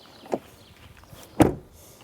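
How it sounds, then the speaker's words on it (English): Cadillac XT4 compact SUV door swinging shut: a small click, then one solid, muffled thud about a second later, fairly close, with quiet surroundings. "Then door closing sound."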